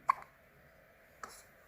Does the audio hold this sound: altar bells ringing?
no